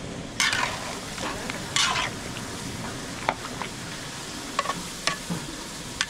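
Chicken pastel being stirred and fried in a large catering pot for about 150 people, a steady sizzle with repeated scraping strokes and occasional metallic clinks of the spoon against the pot.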